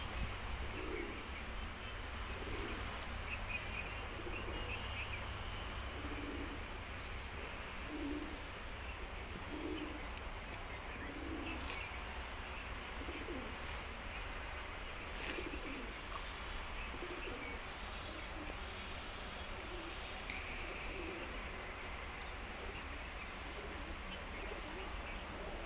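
Pigeons, one of them sluggish and unwell, coo in soft repeated phrases at a steady rhythm of about one every second or two, faint and fairly close in a quiet room, fading out in the latter half.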